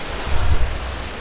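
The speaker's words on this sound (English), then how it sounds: "And our first waterfall." Rushing water from a waterfall on the Mt Olympus trail in Greece, a steady close broadband roar with some low wind rumble over a short stretch.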